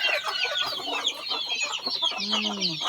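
Several chickens, raised alongside ducks in a rural Lao household, cluck and chatter close by, a busy overlapping flock with a lower drawn-out call near the end.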